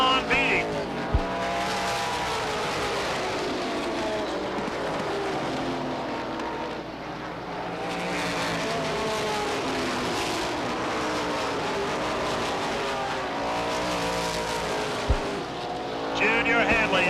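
Stock race cars roar around Beech Ridge Motor Speedway at a 1991 race, a continuous loud engine drone with rising and falling passes throughout, and an announcer's commentary running underneath.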